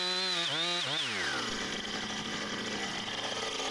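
Chainsaw cutting through a spalted maple log with the bar in the kerf: the engine revs and bogs, then settles into a steady, loud cutting drone that carries on to the end.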